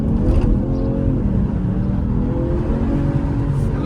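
Genesis G70 engine revs with a low, throaty rumble, a steady close drone with a slight bark, heard alone without talk.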